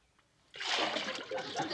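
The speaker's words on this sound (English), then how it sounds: "If we pour on any more, it'll just run over into Miss Drysdale's yard" Liquid tonic poured from a bucket onto garden ground starts suddenly after a quiet moment, becoming a close, steady splashing gush that continues to the end.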